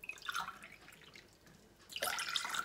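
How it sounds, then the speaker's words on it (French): Water poured from a glass onto sugar for a kalb el louz recipe, two short splashing pours, the second louder and closer, with no voices. "On va mettre 4 verres d'eau."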